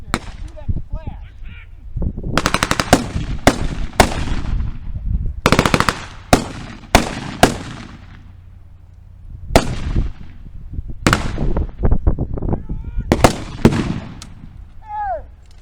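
Gunfire at a WW2 P.O.W. camp open house in Concordia, Kansas: loud, close bursts of rapid automatic shots and single cracks, spread irregularly through the stretch with short quiet gaps, some voices between volleys.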